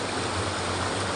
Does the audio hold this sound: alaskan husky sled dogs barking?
no